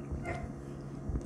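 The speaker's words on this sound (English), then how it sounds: "Dog's barking outside." A dog barks faintly outdoors, muffled and far off behind a steady low background hum.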